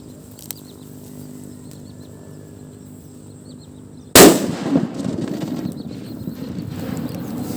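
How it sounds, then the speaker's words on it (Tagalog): After a few seconds of quiet crackling, a firecracker goes off with a single loud, sharp blast, followed by scattered popping and fading crackle outdoors. "Palakasan ng paputok."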